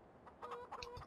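Chickens in Farming Simulator 2015 give a short burst of clucks, a few quick calls rising over a low ambient game background, moderately close.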